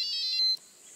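A Lowrance Elite GPS unit sounds an electronic alarm: a rapid series of high, thin beeps, close and clear, that stops abruptly after about half a second.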